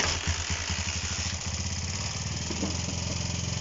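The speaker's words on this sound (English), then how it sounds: "I'm going to give it a wee kick here and see what we get." Honda CB125 RS motorcycle engine kick-started after restoration work, without choke, catching with a rapid low putter at the start, then settling into a steady, slightly uneven idle that carries on close by.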